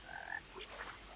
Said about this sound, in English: I hear frogs, but I have yet to see frogs.